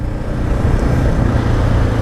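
A Suzuki DR650 dual-sport motorcycle slows while braking through a turn, its engine a close, steady low rumble under constant wind buffeting for a couple of seconds.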